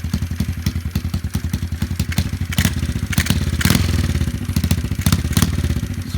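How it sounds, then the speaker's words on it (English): Small 90cc pit bike engine on a Nirve Switchblade running with choke after being kick-started, a loud, close, rapid putter with rattling and clattering, throbbing unevenly with no talk. "we'll just go ahead and kick it over once or twice"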